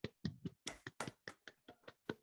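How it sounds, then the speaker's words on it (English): A few people clap hands at an online talk on smart cities, about a dozen quiet, uneven claps coming close together for a couple of seconds with no talking. "This is the virtual applause."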